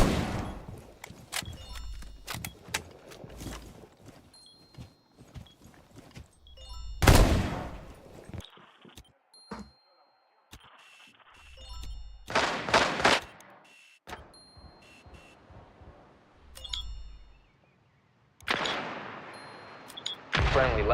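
Gunfire in Rainbow Six Siege, with rapid bursts of shots and loud booming reports coming in several clusters, separated by quieter gaps, with brief shouted callouts.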